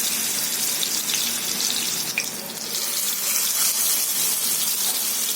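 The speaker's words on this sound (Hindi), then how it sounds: "एक पैन में तेल को गरम कर लिया है। अब कर लेंगे हम ये कबाबों को फ्राई।" Chapli kebabs made with mutton and topped with tomato fry in hot oil in a pan, a dense, steady hiss of sizzling, loud and close without any talking.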